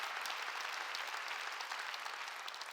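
Congregation at a Sunday church worship service clapping together, a steady dense wash of many hands filling the room, sustained and fairly even throughout with no voices standing out.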